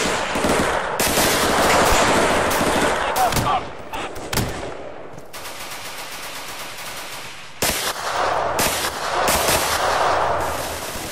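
Automatic and single gunfire in the tactical shooter game Insurgency, loud bursts and sharp shots across most of the stretch with a quieter gap in the middle, no speech.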